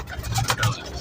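A pigeon coos softly and low, a short throaty burble heard close up over faint background noise.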